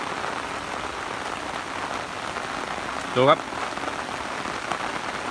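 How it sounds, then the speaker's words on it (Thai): Heavy rain falls continuously as a dense, even hiss over a durian orchard, with someone speaking briefly partway through. "ตอนนี้ฝนก็ยังตกหนักต่อเนื่องนะครับ"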